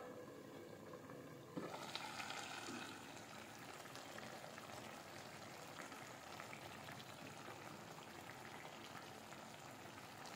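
Mixed vegetables of cauliflower, potato, peas and eggplant fry in oil under a lid, giving a faint, continuous crackling sizzle with a slightly louder burst early on.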